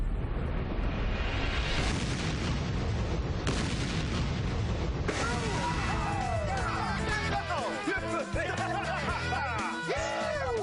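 A homemade explosive device set off with a lit fuse in Tennessee, a loud sustained booming blast that rumbles for several seconds, then scattered crackling debris and ringing tones.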